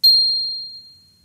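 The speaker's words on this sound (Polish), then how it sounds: "Dzwonki są instrumentem sztabkowym z metalowymi sztabkami o długim wybrzmieniu." A single metal bar of a glockenspiel struck once, giving a bright, clear ding that rings out alone and decays slowly over about a second.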